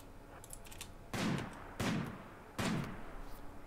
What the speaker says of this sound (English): Sniper rifles do so much damage, it basically just one-shots all this stuff now